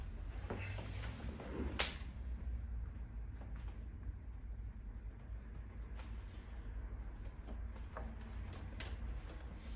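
Wooden back of a Victorian campaign armchair being reclined onto its hooks: a few faint, sharp clicks and knocks spaced seconds apart over a low, steady background hum.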